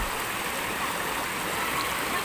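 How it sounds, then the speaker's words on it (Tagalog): A clear mountain river on Mount Tarak flows in a steady, even rush of water, close and continuous with no voices over it. "Andito na tayo sa ano, sa Mount Tarak, yung ilog."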